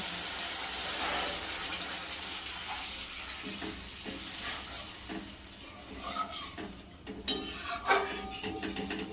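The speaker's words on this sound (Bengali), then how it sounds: "এখন দিয়ে দেবো একটু জল" Water pours into a pan of yogurt masala for doi katla fish curry, a sizzle and bubbling hiss followed by scraping stirring strokes and soft utensil clinks, close and moderately quiet.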